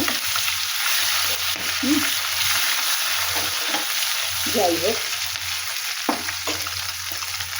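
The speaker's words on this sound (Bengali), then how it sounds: "আমার মাছের তেল ভাজা হয়ে গেছে" Fish oil fries in a pan for a mixed vegetable chorchori, giving a continuous close sizzle with occasional stirring clatter, and a brief spoken remark partway through.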